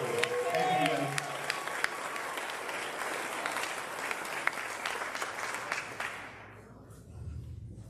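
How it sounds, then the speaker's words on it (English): Audience applause at a taiko conference plenary session, a dense sustained wash of clapping from a large crowd, with a voice speaking over it before the clapping fades out near the end. "How about another nice round of applause for our thank you, guys."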